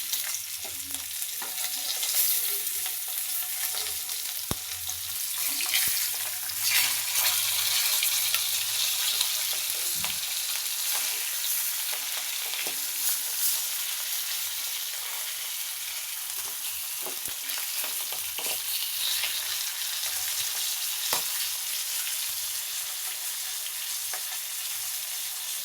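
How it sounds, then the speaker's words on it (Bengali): Fish frying in an oil-filled pan in a village kitchen, a steady crackling sizzle with occasional stirring clinks and pops, fairly close and continuous with no talking. "এই পাশেও মাছ ভেজে নিয়েছি।"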